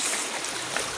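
Floodwater rushes through a village in a steady, dense wash of flowing water, close and constant without pauses.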